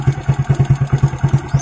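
A second-hand Suzuki Smash 115 motorcycle engine idles close by, its steady rapid putter thumping in an even rhythm with a faint clatter on top.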